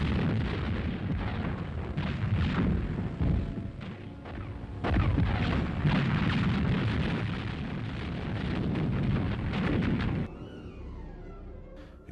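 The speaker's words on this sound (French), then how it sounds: "l'armée britannique franchissait le détroit de Messine sous la protection des tirs des canons du général Montgomery." Artillery cannon fire from General Montgomery's guns covers the British army crossing the Strait of Messina in 1943 wartime Italy: dense, loud rolling booms and blasts that continue without a break for about ten seconds before easing to a quieter rumble.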